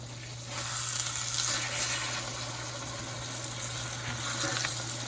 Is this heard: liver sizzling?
yes